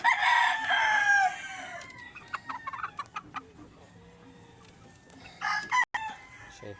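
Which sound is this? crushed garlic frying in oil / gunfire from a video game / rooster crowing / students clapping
rooster crowing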